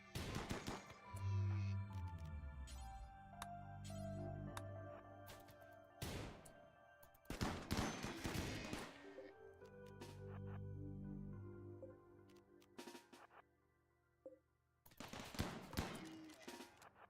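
Gun turrets fire at a herd of charging gazelles in the video game Rimworld, Odyssey DLC: several clusters of rapid automatic fire separated by short pauses, fairly faint, with steady game tones underneath.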